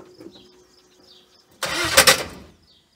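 A Pontiac Parisienne fitted with an LS or Hemi engine swap cranks and fires, a loud burst of starting roar that swells and then settles, following a quiet stretch with faint bird chirps in the background.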